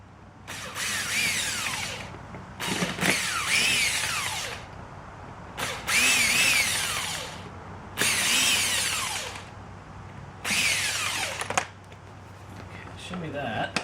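A power drill backs screws out of a 2004 Cadillac Escalade seat in five whirring bursts of about a second each, separated by short pauses with clicks and handling noise, all close by.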